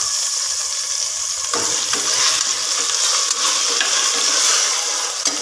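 Tomatoes fry with wilted chirraku greens and mutton in a pan, a loud, steady, close sizzle that holds throughout with a few faint stirring scrapes.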